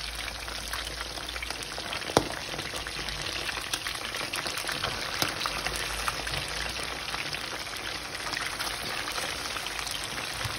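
Fish frying in oil in a pan, a steady close hiss and sizzle with fine crackling pops throughout, one sharper pop near the start, no talking.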